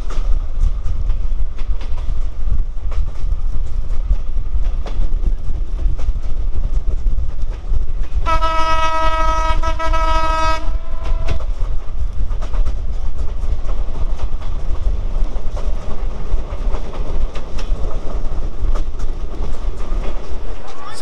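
The Ruposhi Bangla Express runs from Jessore toward Benapole, a loud continuous rumble and clatter of carriages with rhythmic wheel clicks, broken midway by a sustained horn blast lasting about two seconds.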